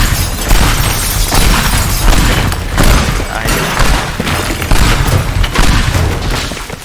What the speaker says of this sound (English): I'm going to throw as many bombs in this elevator as I possibly can.